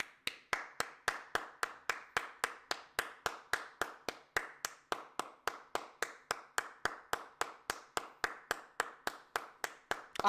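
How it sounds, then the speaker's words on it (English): A single person claps their hands in a steady, even rhythm, about three sharp claps every second, close and distinct with quiet gaps between them and no talk. "Let me applaud you first of all"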